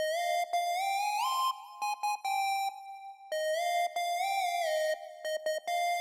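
A bright Serum-style synth lead from a Sunboy kit plays a sliding, gliding melody with pitch bends and short staccato stabs, clean and upfront, repeating the phrase twice.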